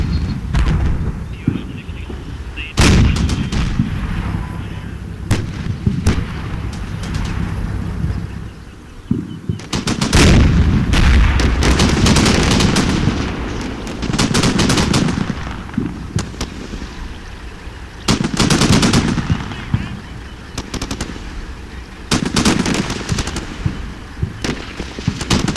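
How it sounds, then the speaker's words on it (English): Gunfire and artillery fire from the video game Combat Mission: Shock Force, loud bursts of machine-gun rattle and booming blasts coming in waves during a tank-supported assault, close and dense. "They're trying to stop my assault by firing upon my assaulting fire teams, but they're being suppressed by the tanks."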